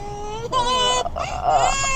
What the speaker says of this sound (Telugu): పాప కొంచెం ఏడుస్తుండే